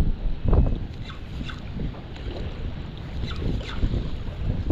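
Wind buffets the microphone aboard a boat at sea, giving a constant rushing roar with gusty low thumps and some water noise, and no voices.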